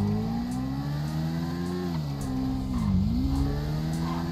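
A Sultan Classic car in a video game is driven out with a steady engine drone. The pitch dips and swells as it shifts and turns, with faint tire noise. Loud and continuous, with no talking.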